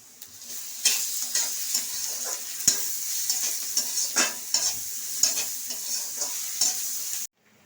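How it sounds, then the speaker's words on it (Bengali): Garlic frying with onion in a pan, a steady bright sizzle punctuated by repeated scraping and clinking strokes of a stirring utensil, close and without talk, ending abruptly. "এই যে রসুন পেঁয়াজের সঙ্গে আমি সবসময় রসুনটা ভেজে নিই"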